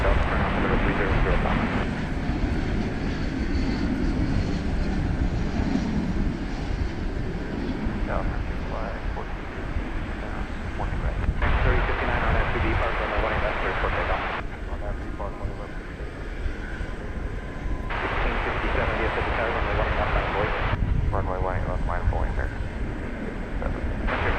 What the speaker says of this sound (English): Coming in was flight 2550 from Knoxville, Tennessee.